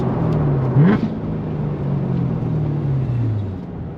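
A Lingenfelter-prepped C7 Corvette Z06 with a manual gearbox makes a U-turn, its low engine rumble rising briefly in a short rev near the start before settling into a steady, slowly falling drone.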